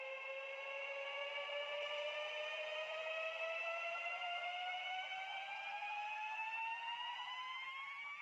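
A synthesized vocal riser effect sweeps steadily upward in pitch over about eight seconds, bright layered harmonic tones climbing together at an even, sustained loudness with no voice or other sound alongside.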